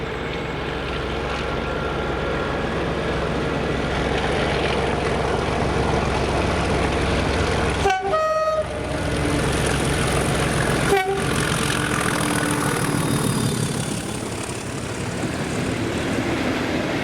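A heavy train hauled by a group of Class 37 diesel locomotives, 37038, 37424 and 37403 among them, rumbles past loudly and steadily, with short horn-like tones around the middle of the passage.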